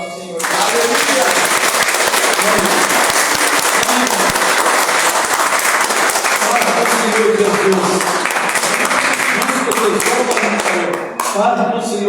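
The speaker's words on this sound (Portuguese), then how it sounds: "palmas para o nosso Senhor" Church congregation claps loudly and steadily for about eleven seconds, a dense sustained wash of applause with faint voices mixed in, ending abruptly near the end.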